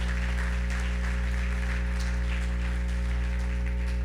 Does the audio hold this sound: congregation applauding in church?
yes